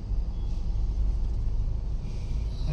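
Heavy road traffic at the Bhiwandi toll plaza on the way to Shirdi, a loud, steady low engine rumble from nearby vehicles with no talk.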